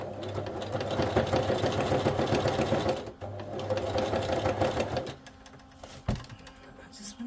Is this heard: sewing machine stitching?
yes